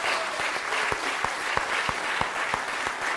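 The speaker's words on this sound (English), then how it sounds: "please give them another round of applause" Theatre audience applauding after a Christmas Carol stage performance of Scrooge, a steady wash of many hands clapping with a few louder individual claps standing out, fairly close and continuous without talk.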